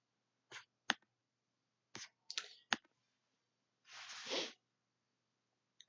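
A computer mouse clicks through Open Broadcaster (OBS) settings on a PC: a few sharp, isolated clicks, some in quick pairs, then a brief rustling burst, in an otherwise quiet room.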